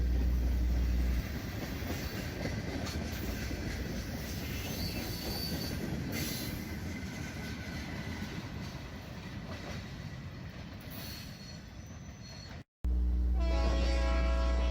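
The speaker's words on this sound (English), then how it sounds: "train D49 is shown at Alton, approaching Goodyard after returning from its East Peoria trip" Freight train D49 approaches Goodyard at Alton, Illinois, rolling past with a steady rumble, wheel squeal and clatter, then a sudden cut to a louder, closer passage near the end.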